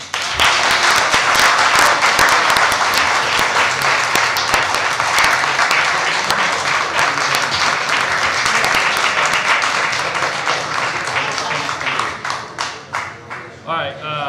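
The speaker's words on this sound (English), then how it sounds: "Not often we get a round of applause" Dense round of applause from attendees at a council meeting right after a unanimous roll-call vote, loud and sustained for most of the span, then thinning into scattered individual claps near the end.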